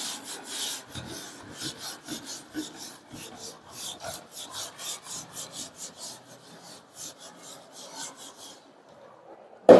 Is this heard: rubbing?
yes